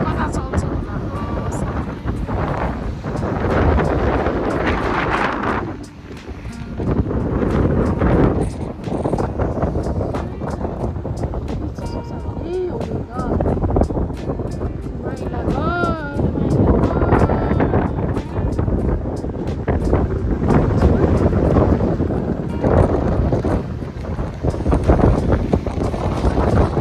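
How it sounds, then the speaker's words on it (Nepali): Strong wind roars and buffets the microphone continuously in an open industrial area lined with warehouses, with gusting rumble throughout and someone talking over it at intervals. "यस्तो हावा चाहिँ कता चल्छ होला"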